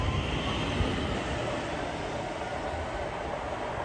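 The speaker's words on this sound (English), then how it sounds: "So here goes the train." A steady, broad roar of a Swiss interurban train rolling past on a rural line, continuous and fairly even throughout, with rumbling low tones and hissing noise.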